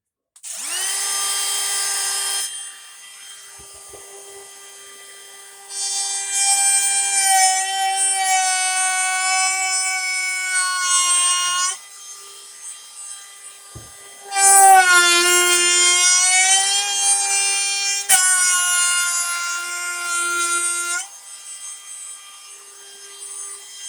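A DeWALT DCW600 cordless router cutting wood for a desk, a loud high whine in several long bursts with pauses between them, the pitch dropping as the bit bites into the wood.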